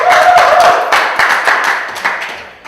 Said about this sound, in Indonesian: tepuk tangan buat Pak Ikun